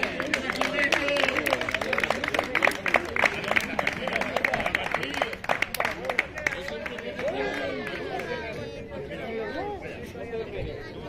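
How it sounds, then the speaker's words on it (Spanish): Spectators at a regional greyhound coursing championship with a mechanical hare clap for a competitor, brisk scattered applause for several seconds that gives way to voices and crowd chatter. "Un aplauso, por favor."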